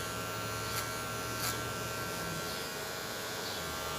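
A gold Wahl Magic Clip hair clipper buzzes steadily while blending the top into a taper, a faint constant electric hum with a couple of brief louder touches against hair, no talking.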